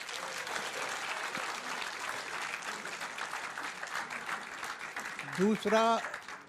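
Studio audience applause on a Hindi TV debate show, a dense, steady clatter of many hands clapping for several seconds, with a voice briefly rising over it near the end.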